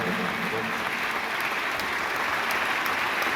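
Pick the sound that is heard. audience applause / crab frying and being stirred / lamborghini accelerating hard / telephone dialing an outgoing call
audience applause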